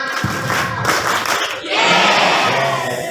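An audience of pesantren students performs a call-and-response clapping chant, loud massed voices and claps surging together, pausing briefly midway before a second louder burst.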